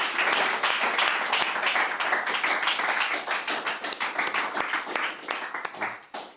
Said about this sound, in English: Let's give a round of applause to Sonia, ladies and gentlemen.